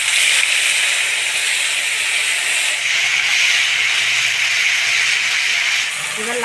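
Whole cumin seeds and dried red chilies hitting hot oil for tempering give a steady, loud broadband sizzle and hiss that holds evenly throughout, with no talk over it.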